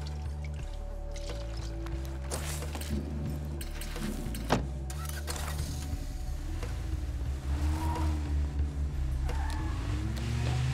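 A car driving in the State of Decay 2 video game during daytime, its engine a steady loud drone with shifting tone throughout, a sharp knock around the middle and rougher rumbling toward the end.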